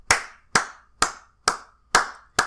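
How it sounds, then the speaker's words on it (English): People at home applaud essential workers during the COVID-19 crisis, six sharp, evenly spaced claps close by with a short ringing decay after each. "you have people who are at home clapping"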